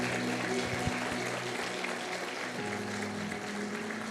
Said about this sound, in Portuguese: Vamos aplaudir esse maravilhoso Jesus, porque Ele é o digno